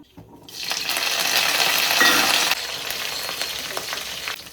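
Mustard seeds and curry leaves hit hot oil for an okra sambar tempering, giving a loud, steady hiss and crackle that swells quickly and then settles slightly lower, with no talking.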